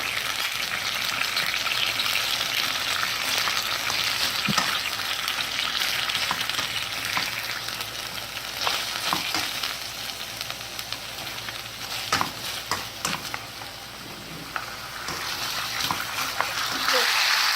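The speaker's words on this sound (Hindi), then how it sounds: "यहीं पर ये वेजिटेबल्स जो हमने काटी हुई हैं, इसको भी इसी के साथ सौटे हमने कर लेना है।" Chopped vegetables sautéing in a pan alongside steaks, a loud, steady sizzle and hiss with occasional spatters and scraping stirs, settling a little quieter toward the end.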